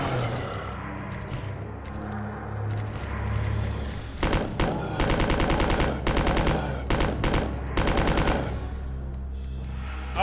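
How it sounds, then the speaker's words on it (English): Rocket launcher fire at Marvin in a Resident Evil game, a long loud run of dense, rapid blasts and booming impacts over a steady low rumble, ending in a final burst. "Shoots Marvin with a rocket launcher."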